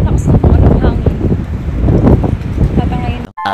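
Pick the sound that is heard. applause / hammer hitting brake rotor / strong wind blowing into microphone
strong wind blowing into microphone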